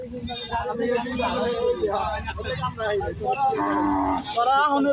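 A cow being led away moos repeatedly and loudly at close range, long drawn-out lowing calls filling most of the moment, with people's voices mixed in.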